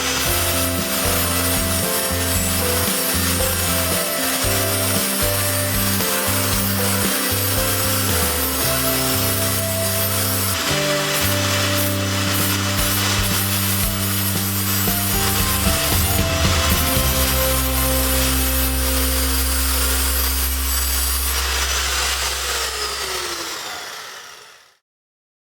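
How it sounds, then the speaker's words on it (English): An angle grinder with an 80 grit flap wheel sharpens a push mower blade in a loud, sustained abrasive whine with rhythmic grinding passes, then spins down and stops. "Now I just grab my grinder with an 80 grit flap wheel and give it a good sharpen."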